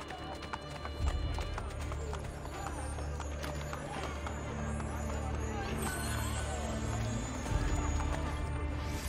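Roman guard's horse in Assassin's Creed Brotherhood, hooves clip-clopping steadily over a busy bed of street murmur and game ambience, with a voice talking in places.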